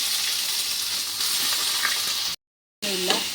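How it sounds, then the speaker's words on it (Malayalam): Crushed ginger, green chili and onion sauté in a hot pan with a steady, close sizzle that cuts out briefly before a stirring clatter comes back in over the frying. "ഈ ഇടിച്ചു വെച്ചേക്കുന്ന ഇഞ്ചിയും പച്ചമുളകും ഉള്ളിയും കൂടെ നമുക്ക് ഇതിനകത്തേക്കൊന്ന് വാട്ടിയെടുക്കാം"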